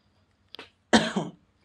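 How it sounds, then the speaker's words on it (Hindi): A short throat sound followed by a single harsh cough, close and fairly quiet, with silence around it. "देखिएगा थोड़ा सा खांसी आ गया"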